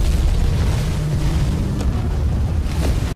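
A deep, sustained rumbling roar of old World War II missiles exploding, loud and continuous with heavy low-end booms and noisy wash throughout.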